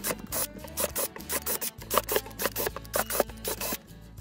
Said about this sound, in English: drill some breathing holes into the lid